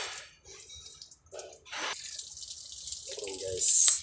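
Water drains and splashes from a Mercedes-Benz Actros 1841 truck with a leaking automatic retarder, coming in short gushes and trickles with pauses between, close by, with someone talking briefly.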